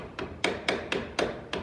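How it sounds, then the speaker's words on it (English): A hammer taps a glued cabinet door joint to bring it flush, giving six sharp, close knocks spaced roughly a quarter second apart, heard with no talking. "Then I use a hammer,"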